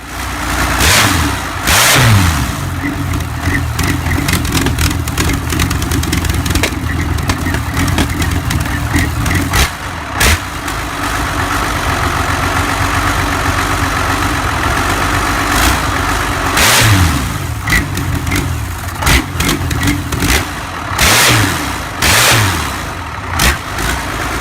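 A rare Soviet engine cranks, starts and revs repeatedly, a loud, rough mid-pitched roar that rises and falls through several throttle bursts with steady idling in between.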